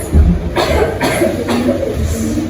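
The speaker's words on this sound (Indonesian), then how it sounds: "tiba-tiba ibunya batuk dan sesak nafas" A woman, short of breath, gives three rough coughs in quick succession, fairly close, against a low background hum.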